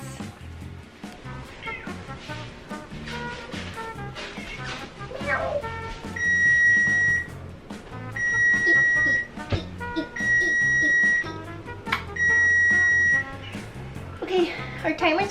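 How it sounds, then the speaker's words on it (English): Kitchen oven timer beeping in four loud, evenly spaced bursts of rapid beeps, each about a second long, with people talking before and between them. "Okay, our timer's going."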